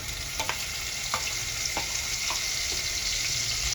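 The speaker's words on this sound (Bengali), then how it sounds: "ওই তেলে ডালচিনি এলাচ দিয়ে দিচ্ছি এলাচগুলো ভাজা গেছে পেঁয়াজ বাটাটা দিয়ে দিচ্ছি" A steady, loud sizzle of onion paste frying in hot oil with cinnamon and cardamom fills the clip, broken by a few soft scraping stirs at irregular intervals.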